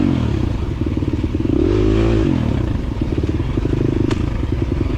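A KTM 350 XC-F dirt bike engine races in a scramble, loud and close, with steady revving and pitch swings as the rider shifts and accelerates, and a brief clatter near the end.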